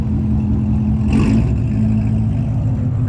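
A high-horsepower car with 750 foot-pounds of torque runs on a dyno, its engine holding a loud steady drone with a brief sharper rev burst midway, no talking.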